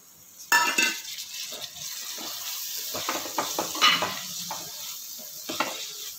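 Tomato frying and being stirred in a pan for a sprouts curry, with a soft sizzle beneath repeated scraping and clinking strokes of the spoon against the pan, alone and fairly close.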